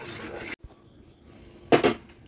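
A spoon stirs milk simmering with cinnamon, cardamom and bay leaf in a pot, giving soft scraping and rubbing against the metal, then a brief pause and a louder clatter near the end, all close and with no talk.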